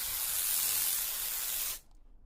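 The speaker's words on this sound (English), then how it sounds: "We're going to spray a little bit of more particulate in the air to get a better look at that beam." A steady, close hiss from an aerosol spray, putting particulate haze into the air to show a laser beam, lasting under two seconds before cutting off.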